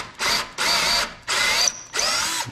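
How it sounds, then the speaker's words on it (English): A power drill with a 3/4 inch bit bores a center hole about an inch deep in four loud, close bursts of whirring, each starting and stopping abruptly with short pauses between. "Then I take my 3/4 inch bit, because we have to do the center hole."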